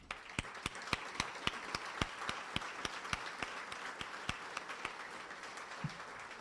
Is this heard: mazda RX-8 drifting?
no